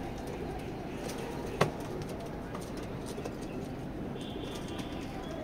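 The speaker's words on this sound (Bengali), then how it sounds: "আমার হাতে যে কবুতরটা আপনারা দেখছেন, কবুতরটা রেস করা ডোমার পর্যন্ত এই গ্রিজেলটা রেস করা।" A grizzle racing pigeon held in the hand gives soft, low coos against a busy background of loft noise, with one sharp click partway through.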